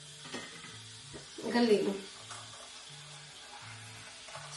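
Food sizzles and fries in an electric pot under a steady low sizzle, with one louder surge of stirring near the middle, while someone talks briefly over it.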